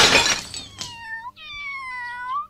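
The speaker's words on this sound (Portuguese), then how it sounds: "O gato!" A cartoon cat in a Brazilian Portuguese dub of the anime Yu Yu Hakusho lets out a drawn-out, wavering meow right after a loud noisy burst, close and clear with no talk over it.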